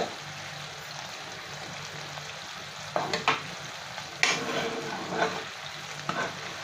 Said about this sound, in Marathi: साखर पूर्ण विरघळलेली आहे वर छान बुडबुडे यायला लागले आहेत